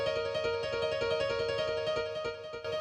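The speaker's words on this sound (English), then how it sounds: "Just kind of a fast, plucky, repetitive thing." A quick, plucky synth melody repeats a short pattern over and over in a steady fast rhythm, with no voices.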